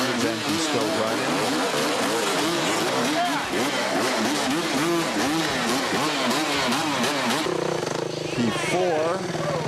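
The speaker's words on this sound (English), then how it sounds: "His engine's still running." An off-road racing motorcycle engine, a 4-stroke Yamaha among the racers, revs loudly and keeps running with rapid rising and falling pitch, while a commentator talks over it throughout.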